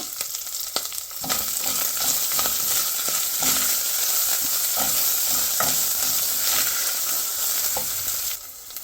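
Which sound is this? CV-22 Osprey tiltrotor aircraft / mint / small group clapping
mint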